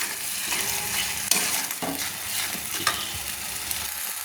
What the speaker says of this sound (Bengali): সব মশলাকে একসঙ্গে আমি কষিয়ে নিচ্ছি।